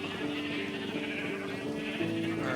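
Sheep bleat in the Minecraft video game, a steady, sustained wavering call running the whole stretch at moderate level over faint background hum.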